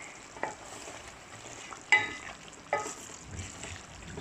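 Black pepper mutton curry simmers and sizzles in a pot, a soft steady bubbling hiss with a few brief louder stirring clatters, close and fairly quiet.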